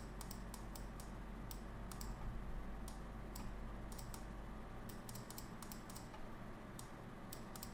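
A quick series of sharp computer mouse clicks in irregular bursts, close up and crisp, over a steady low hum with no talking.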